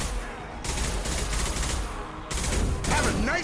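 Sustained gunfire with incendiary ammo in the game Mass Effect 2, rapid dense bursts of shots that drop out briefly and then resume loudly, with a harsher crackling stretch at the end.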